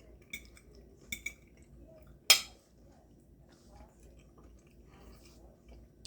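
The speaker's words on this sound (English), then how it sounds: "I'm going to go in here and cut this just like this." Cutlery cuts through a stuffed pepper filled with zucchini, onion, garlic and wild rice: a few light clinks, then one sharp scrape of the knife against the plate, followed by quiet background.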